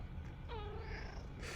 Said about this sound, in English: I like when she meows